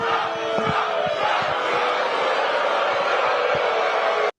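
Loud crowd noise with shouting voices at a rally, a continuous roar with scattered cries where a chant of a name fails to catch on, sustained and close until it cuts off abruptly.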